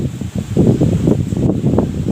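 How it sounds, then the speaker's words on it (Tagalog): Strong outdoor wind buffets the microphone with a loud, steady low rumble and gusty rushing that swells and dips throughout, with no voices. "Grabe yung hangin dito"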